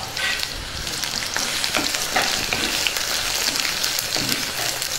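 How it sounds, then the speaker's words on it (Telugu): Onion and garlic pieces frying in hot oil, a dense, loud, continuous crackling sizzle heard up close with no talk. "వీటిని బాగా వేగనిద్దాం"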